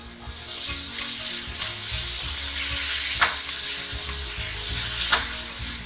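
Curry leaves dropped into simmering pineapple and tomato rasam give a steady close sizzle and bubbling, with two brief sharp crackles standing out; no one speaks.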